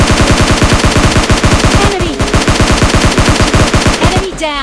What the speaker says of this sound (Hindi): मेरे पे किसी ने गोलियां चला दी